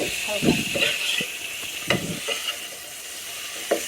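Vegetables fry in a pan, a faint hiss with a few soft stirring scrapes and bumps, close but quiet, with some brief low background noise.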